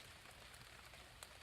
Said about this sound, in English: I kind of like the rain, especially when it's hitting the tarp.